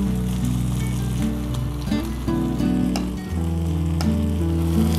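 Ground coconut-spice masala for a Kerala chicken curry goes into a hot pan, a steady close sizzle over an underlying hum, with no voices.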